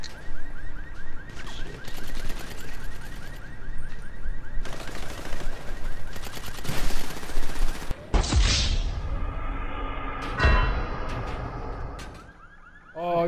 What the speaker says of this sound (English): Alright, can you shoot these guys on my left?